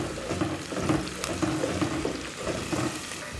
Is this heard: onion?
yes